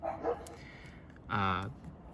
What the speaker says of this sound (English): My neighbor's dog.